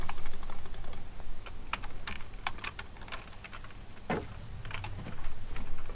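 Rapid clicking keystrokes on a computer keyboard during a Minecraft multiplayer session, an irregular patter of taps at close range running throughout with one sharper clack near the middle.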